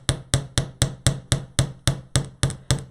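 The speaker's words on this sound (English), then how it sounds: "So I'm going to start by hammering on these corners" A hammer strikes wire at the corners of a handmade tree-of-life jewelry piece, giving about eleven sharp, evenly spaced metallic taps, close and loud with no talking.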